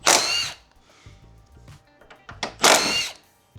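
Power tool, likely an impact driver or drill, spinning out 12 mm bolts from a Nissan Z hood hinge: two loud whirring bursts at the start and end, with quieter clicks and handling noise between.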